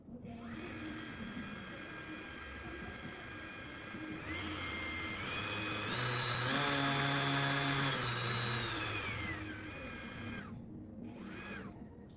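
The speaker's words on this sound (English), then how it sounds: "This orbital sander works by using a rotating and oscillating sanding pad." A Jadever 350W brushless electric orbital sander with a 150 mm pad and variable speed runs with a steady whine that rises in pitch and loudness as it speeds up, then drops back before switching off.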